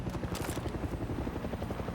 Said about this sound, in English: here comes a hell of a chopper